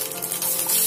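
Chopped onion sizzles in hot oil with mustard seeds, asafoetida, curry leaves and green chilli for upma, a short burst of dense, steady frying hiss.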